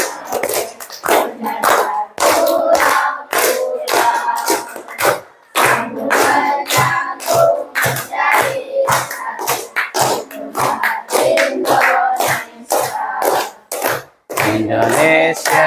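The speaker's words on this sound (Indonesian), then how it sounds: "Sambil tepuk tangan." A group claps hands in rhythm along to a children's song, the loud, crisp, rapid claps mixing with singing voices almost throughout, with only a couple of brief lulls.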